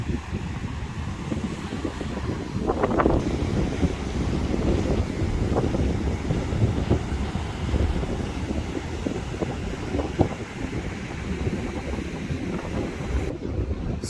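Strong wind gusting at a beach campsite, roaring and buffeting the microphone steadily throughout, with no talking.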